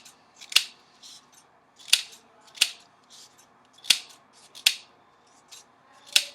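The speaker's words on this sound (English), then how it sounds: "And then I'm going to cut them." Scissors cut through a stack of yellow and orange paper strips, making six crisp, close snips at an uneven pace of roughly one per second, with soft rustling between cuts and no talking.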